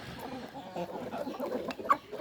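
Soft clucking of a rooster amid light farmyard noise, with one brief sharper call near the end; no clear crowing.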